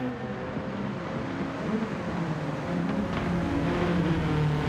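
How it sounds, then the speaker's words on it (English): A Suzuki Swift drifting in Gran Turismo 7 during an online Swift cup race, its engine droning steadily and rising in pitch as the car slides, with other cars audible underneath. "as he gets the rear end out, drifting that Swift"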